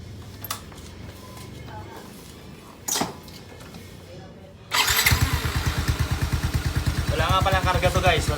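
A stock Yamaha VMAX motorcycle fitted with an aftermarket pipe and silencer fires up after some nearby talking, then settles into a loud, close, throbbing idle with a steady rapid pulse.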